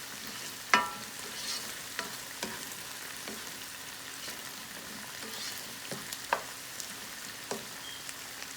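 Chicken frying in a pan as water evaporates, with a steady soft sizzle and occasional sharper pops and stirring clicks spread through, moderately quiet and close.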